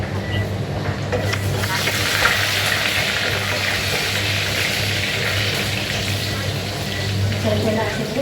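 Garlic frying in hot oil for mung bean stew with onion and lemongrass makes a continuous loud sizzle with stirring scrapes, under a low steady hum.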